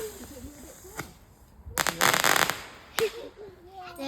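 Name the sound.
bonfire night fireworks crackling and popping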